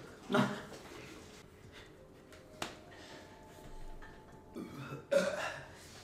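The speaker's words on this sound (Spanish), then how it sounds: "eructos de vómito directamente" Burps after drinking soda (Sprite or 7UP), a few short, separate belches with quiet pauses between them.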